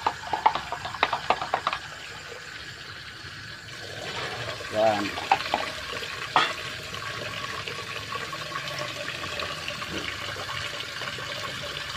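Water poured into a pigeon waterer, a splashing and gurgling fill that runs for several seconds amid handling clatter, while someone talks over parts of it.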